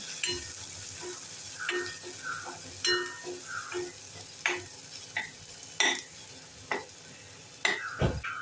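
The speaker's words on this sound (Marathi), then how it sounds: "आता आपण थोडीशी हळद टाकूया हा चमचा एक छोटा चमचा लाल मिरची पावडर टाकूया सर्व व्यवस्थित परतून घेऊया" Turmeric and red chili powder are stirred into hot oil in a pan for a wet cashew curry, with a continuous soft sizzle broken by frequent spoon scrapes and metallic clinks against the pan at an uneven rhythm.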